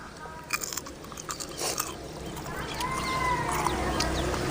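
Crunchy fried buttermilk chillies (mor milagai vathal) bitten and chewed up close, giving a few sharp crisp crunches followed by softer chewing against faint background noise.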